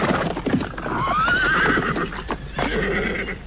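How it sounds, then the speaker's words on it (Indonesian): Cavalry horses come to a halt, one neighing loudly near and clear while hooves clip-clop rhythmically beneath it. "Para pasukan berkuda itu berhenti tepat dekat tugu."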